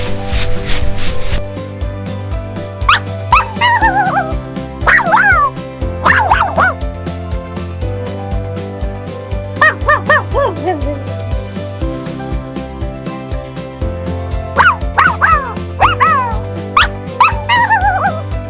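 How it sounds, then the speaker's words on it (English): A dog yips and barks in short bursts over a bouncy, repeating backing music track, the barks recurring several times in clusters across the loop. "Dog. D. O. G. Dog."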